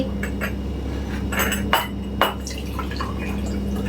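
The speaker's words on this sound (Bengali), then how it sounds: "বুলেট কফিটা আমি ছেঁকে নিচ্ছি" Bulletproof coffee strained through a strainer into a cup: a soft, steady trickle of dripping liquid over a low hum, with two sharp metallic clinks near the middle, close by and with no talking.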